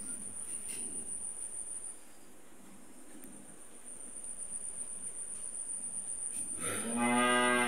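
A Friesian cow on a dairy farm lets out one loud, close moo near the end, after several seconds of steady insect and cricket chirring in the background.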